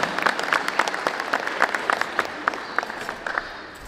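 At an inauguration ceremony for a technological institute in Tlahuitoltepec, a modest audience claps, individual hand claps standing out as distinct sharp pops in an irregular patter, moderately distant and fading toward the end.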